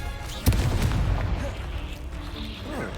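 A Confringo explosion spell in Hogwarts Legacy, a video game, goes off as one sudden, loud boom, then a dense, rumbling tail fades over the next few seconds.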